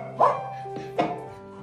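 Rescued young puppies let out two short, close yips a moment apart, sharp and high, with a faint whimpering tail between them and no talk.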